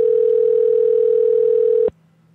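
Steady telephone line tone, a loud continuous electronic hum on an unanswered prayer line, holding for nearly two seconds before cutting off abruptly to near silence.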